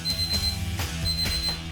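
Repeated electronic timer alarm beeping in bursts while sugar boils for handmade candy, steady mid-loud pulses over a low background hum.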